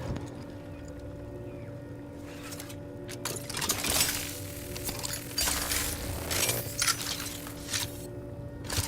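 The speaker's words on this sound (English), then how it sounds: "Elevator." Elevator machinery in The Outer Worlds runs with a continuous mechanical hum and drone, overlaid with clanks, ratcheting clicks and rattles that come and go at moderate loudness.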